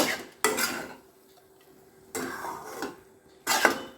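A coconut sweet mixture being stirred in a pan over a low flame, three separate bursts of utensil scraping against the pan with quiet gaps between them.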